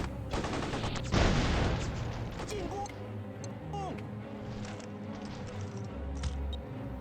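Gunfire in the Mercenaries video game, a burst of loud crackling shots up front fading into scattered quieter pops and distant game sounds.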